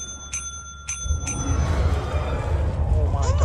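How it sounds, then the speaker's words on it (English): Three bright metallic dings of a small bell from the Lethal Company video game ring out in quick succession, followed by a rising rumble of game noise and people talking over it. "Stop fucking with the bell."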